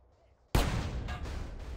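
A fuel tank blows up in the video game GTA San Andreas: one sudden, loud explosive blast after a quiet lead-in, followed by a sustained roaring, crackling rumble that carries on to the end.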